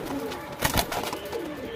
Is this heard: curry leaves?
no